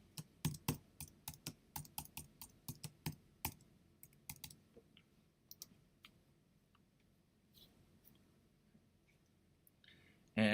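A login and password are typed on a computer keyboard as a run of crisp, close key clicks, quick and evenly spaced at first, then slower and more scattered, ending in a short loud burst.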